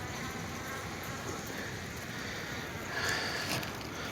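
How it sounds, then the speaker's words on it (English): Steady honeybee buzzing from a hive box fills the clip continuously, a dense droning hum that swells slightly near the end, with no voices. "That is a beautiful box of bees."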